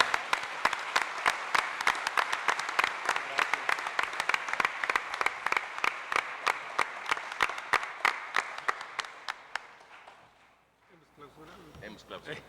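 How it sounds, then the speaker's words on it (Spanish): A small audience claps to close a roundtable event, dense rhythmic applause with loud individual claps standing out, fading away near the end as people begin talking quietly. "Sí, con este aplauso clausuramos."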